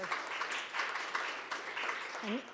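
An audience claps after a poetry reading, a soft, steady wash of many hands heard from a distance at low volume, with a voice briefly starting to speak near the end.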